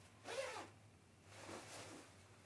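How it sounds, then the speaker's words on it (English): Two quick, soft zips from the calf zippers on Alpinestars P1 waterproof motorcycle pants, close up and quiet with no talk. "Here's the zippers that I spoke about for the calf."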